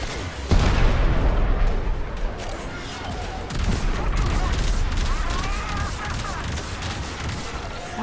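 Seeker missile exploding in the Warframe video game, a sharp loud boom followed by a rumbling wash of blasts and crackling game noise, with voices heard faintly under it.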